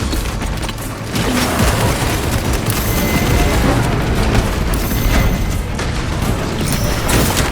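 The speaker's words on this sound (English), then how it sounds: "Frag grenade deployed." Frag grenade blast and gunfire in Warhammer 40K Space Marine 2, a dense, loud wash of explosions and rattling shots that swells after a quieter opening second and stays heavy throughout.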